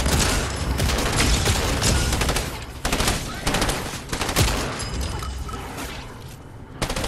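Rapid gunfire in The Walking Dead video game, sounding as loud, dense bursts of shots with short gaps between volleys. A voice can be heard faintly under the shooting.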